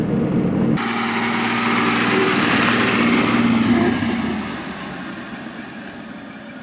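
A vintage Mercedes-Benz 200 Cabrio W21 engine drones steadily while driving, a mid-pitched rumble with road and wind noise that eases slightly toward the end.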